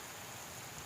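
A soft, steady hiss of falling rain, faint and even throughout, with no voices.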